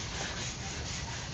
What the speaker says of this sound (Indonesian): Itu lagi diamplas.